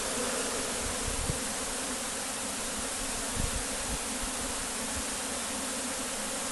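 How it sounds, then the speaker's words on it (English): A heavy honeybee swarm entering a hive, a dense, continuous buzzing hum from many bees at close range, steady and loud, with no voices heard. "Hopefully they'll go straight up into this hive. It is a heavy swarm, this is."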